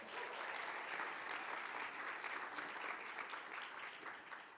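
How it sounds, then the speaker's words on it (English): A crowd at a startup pitch competition semi-final applauds a judge, a dense, steady wash of clapping that holds evenly throughout and eases slightly at the end. "Let's give each one of them a round of applause as I call out their names"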